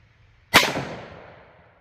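A single sharp pistol shot from a .357 SIG handgun firing Underwood 90-grain Xtreme Defender ammunition at an outdoor range, a loud crack followed by a decaying echo.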